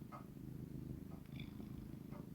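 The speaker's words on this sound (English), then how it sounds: "as I hear his fading last purrs" A cat purring steadily up close, a low continuous rumble with faint soft rustles over it.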